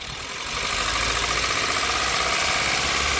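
A Ford E-Series engine idles nearby with a constant broadband rumble, growing slightly louder after the first half second.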